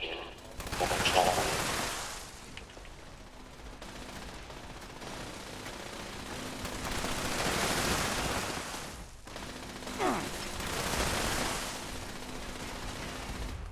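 Bursts of gunfire from an Assaultron robot in Fallout 76, several rattling volleys of rapid shots that swell and fade over steady background game noise.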